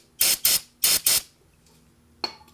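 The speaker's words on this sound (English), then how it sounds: "I just get some brake clean and kind of spray to clean any of the threads and everything out." Brake cleaner sprayed from an aerosol can into freshly tapped threads during motor mount work on a Mercedes SL55 AMG with the M113k engine: four short, loud hissing bursts in quick succession, then a brief fainter spritz after a pause.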